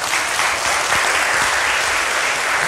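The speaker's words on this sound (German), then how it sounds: "Applaus!" Audience applause at a PowerPoint karaoke presentation during the MRMCD2023 event, a steady, dense round of clapping from a crowd that holds evenly at a loud level throughout.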